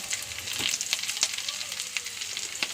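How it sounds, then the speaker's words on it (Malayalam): Curry leaves, garlic and shallots frying in hot oil, a close crackling sizzle with sharp pops spread through and a faint scrape of stirring. "വെളുത്തുള്ളി ചുവന്നുള്ളി ഇടുന്നു. ഉള്ളി മുരിഞ്ഞു. വേപ്പിൻ്റെ ഇല ഇടുന്നു."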